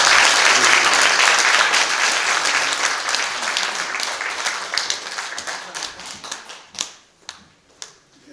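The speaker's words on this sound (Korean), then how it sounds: "정말 뜨거운 사랑의 마음으로 착한 박수를" Congregation applause at a Korean church service installing a new senior pastor, a dense burst of clapping that fades into a few scattered claps at the end.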